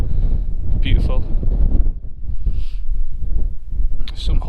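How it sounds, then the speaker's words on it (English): Wind on an open hillside at High Cup Nick, loud gusts buffeting the microphone with a deep rumble throughout and brief quieter lulls, while a person talks over it. "it was like this, a bit windy, not too hot"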